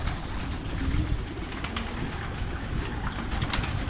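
Pigeons coo softly and repeatedly inside a pigeon loft, a close, continuous murmuring with no talking.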